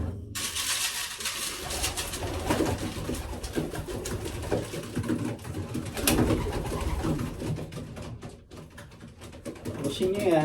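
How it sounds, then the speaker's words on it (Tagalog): Pet pigeons coo steadily in a close coop, soft low calls repeating throughout with fluttering and shuffling, while someone talks over them. "Ayan mga alaga kong kalapate, mga boss."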